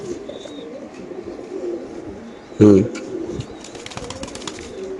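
Racer pigeons coo at a pigeon farm, soft low calls recurring near and far under someone talking, with one louder close burst of cooing or wing movement midway.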